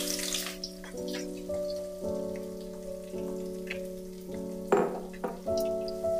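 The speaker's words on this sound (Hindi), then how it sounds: "अच्छी तरह से भून लेंगे प्याज को" Onion and panch phoron frying in hot oil for achari chicken, a soft, steady crackling sizzle under a held musical drone, with one sharper burst of spitting near the end.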